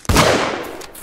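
One sharp, loud gunshot from a weapon in the game Squirrel Stapler cracks right at the start, followed by a short ringing tail that fades within a second, with no talk over it.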